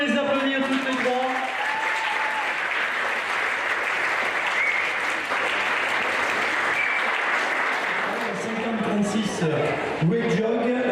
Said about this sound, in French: on peut les applaudir toutes les trois